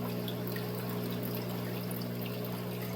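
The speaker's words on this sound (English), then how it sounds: "I gotta put a little more water in there." Water pours steadily into an aquarium tank holding shrimp and corydoras, a continuous splashing trickle over a constant humming drone of equipment, close and unchanging.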